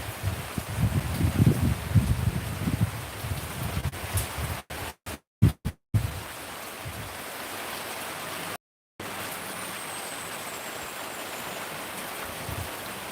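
Steady rain hiss fills the background, with a soft low rumble early on and a few brief dropouts; no voices.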